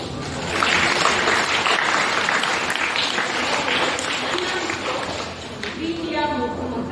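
An audience claps steadily in applause welcoming teachers at a Kannada Rajyotsava school celebration, a dense continuous patter filling the hall and tapering near the end, with voices faintly underneath.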